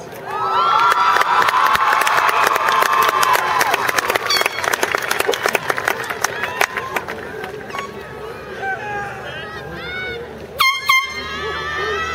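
Graduation crowd on a football field roaring with cheers, shouts and blasting air horns, loud and dense, thinning toward the end with a final sharp horn burst.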